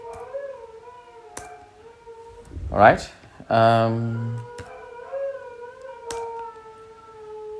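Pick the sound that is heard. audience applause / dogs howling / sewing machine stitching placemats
dogs howling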